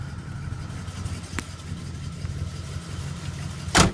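A 1971 Oldsmobile Cutlass with a 350 V8 idles steadily with a low, lumpy burble, and a brief sharp burst near the end.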